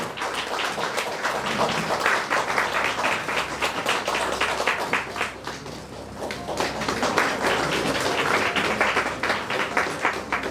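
An audience at a seminar and award ceremony claps in a steady, dense round of applause that fills the room for about ten seconds and swells slightly near the end.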